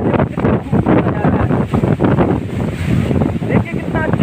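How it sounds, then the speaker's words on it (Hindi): Cold water pours over a weir in Madhya Pradesh, making a loud, steady rushing roar close to the microphone, with wind buffeting and someone talking over it. "देखिए कितना अच्छा लगता है जब पानी गिरता है, काफ़ी ठंडा पानी है"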